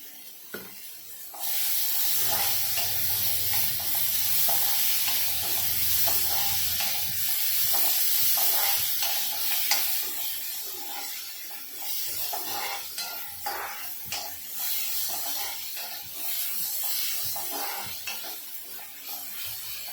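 A salted green chilli vegetable dish is stirred in a frying pan, giving a steady wet sizzle with soft scraping and clinking of the spoon throughout, close and moderately loud, with no talking.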